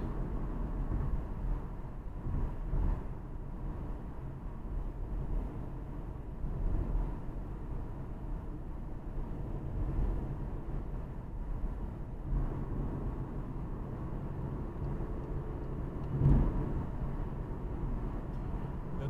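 Interior drone of a Volkswagen Voyage with a three-cylinder engine cruising on the Rodovia dos Imigrantes over the Billings reservoir, a steady low rumble and road hum with no talking.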